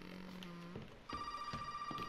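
Ringing telephone in the survival-horror game Resident Evil 7, a steady electronic ring tone that shifts pitch partway through, moderately loud with no talk over it.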